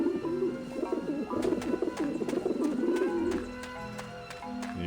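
Pigeons coo on a rooftop in the game Grim Fandango, a run of soft rolling throaty coos repeating close by for several seconds, with faint game music behind.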